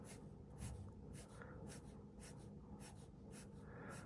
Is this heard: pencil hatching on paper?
yes